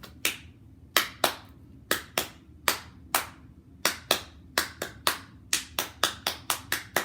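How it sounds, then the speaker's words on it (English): Children in a grade 3 and 4 music lesson clap out a tune, about seventeen sharp, close hand claps in an uneven rhythm that quickens toward the end, with no voices. "Let's clap a happy tune."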